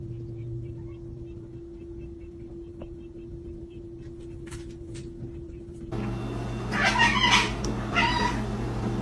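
A cat meows and caterwauls outdoors, first faint and distant over a steady engine hum, then louder and closer in a few drawn-out yowls toward the end, with some background talk.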